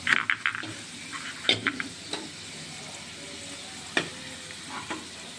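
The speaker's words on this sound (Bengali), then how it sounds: "এখন আবার ভাজবো।" Spices fry in a pan with a steady, close sizzle, broken by sharp scraping and clinking as a utensil stirs them, loudest at the start and easing toward a quieter hiss.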